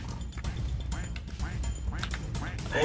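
Repeated duck quacks from the video game Evade sound close and loud over a busy stretch of game noise, with someone talking excitedly over them.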